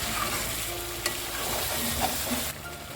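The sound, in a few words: stirring cream into chicken curry in a pan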